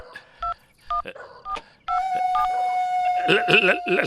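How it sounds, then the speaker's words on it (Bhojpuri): Several short telephone keypad beeps sound one after another, followed by a steady tone and a warbling electronic signal, near and clear. "लगावा फोन।"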